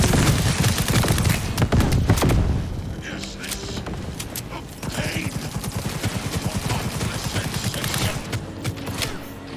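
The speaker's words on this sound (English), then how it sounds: "The smart gun." Rapid bursts of smart gun fire in Cyberpunk 2077, a dense volley of sharp shots with mechanical clatter, then a thinner stream of repeated cracks, loud and close, with game sounds and some voice mixed in.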